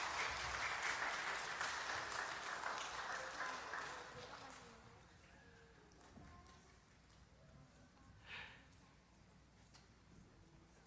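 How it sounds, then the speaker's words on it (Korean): A church congregation at a Sunday worship service claps for the children, a full burst of applause that gradually fades over about five seconds into quiet room murmur. "우리 어린이들 수고했다고 다시 한번 박수하도록 하겠습니다."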